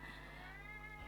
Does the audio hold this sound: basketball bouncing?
no